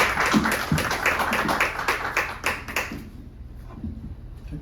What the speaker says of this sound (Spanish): les pido un fuerte aplauso para iniciar el comentario